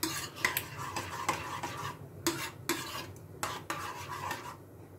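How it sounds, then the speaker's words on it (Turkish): A spoon stirs cacık, a watery yogurt dip, in a bowl, giving repeated close scraping clinks in an uneven rhythm, with no voices. "Güzelce karıştırdım."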